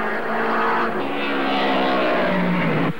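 Several 1950s racing cars roar past in a continuous loud engine drone, Fangio chasing two Ferraris, the pitch climbing and sliding as they pass, with no talking.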